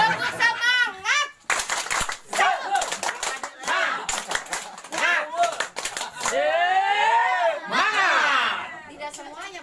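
A mixed crowd of men and women joins in a rhythmic spirit clap at a community gathering, with sharp claps in quick patterns among shouts, chanting and loud voices.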